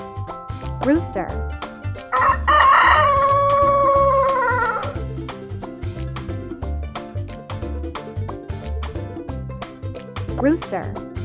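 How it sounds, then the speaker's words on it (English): A rooster crows once in a long, strained call that rises and then holds, loud over a steady, bouncy music track with a few faint animal calls around it. "Rooster."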